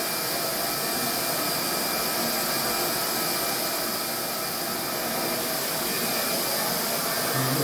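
A hot-air plastic welder melting polypropylene parts together gives a steady, loud, broadband blowing hiss that holds unchanged throughout, close by and with no speech.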